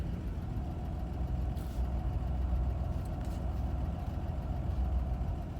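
A 1987 Toyota Land Cruiser FJ60 idles after a cold start with the choke in use, a steady low rumbling engine close by with no one speaking.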